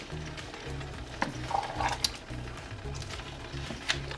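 A spoon stirring Filipino mung bean soup in a pot, soft scraping and swishing with occasional light clinks against the metal, close and fairly quiet.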